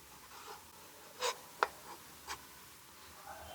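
A knife slices lengthwise through a roasted chili pepper, three or four short, quiet cutting taps and scrapes against a board, isolated in a hushed room.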